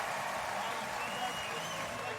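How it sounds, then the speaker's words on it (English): A US Open tennis crowd applauding Dan Evans after a third-round match: dense, sustained clapping from a large stadium audience, steady and fairly distant, with a commentator talking over it. "the crowd now showing their appreciation"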